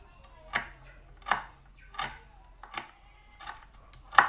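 A knife slices red curly chilies on a board: five or six crisp, evenly spaced cuts, close and clear, with no talking.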